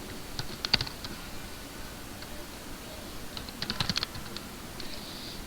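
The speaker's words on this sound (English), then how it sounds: "Typed in the word Veronica" Keys tapped on a computer keyboard while a search word is entered, a few quiet clustered bursts of light clicks with pauses between, close and faint, no talking.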